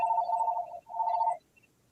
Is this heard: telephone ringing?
yes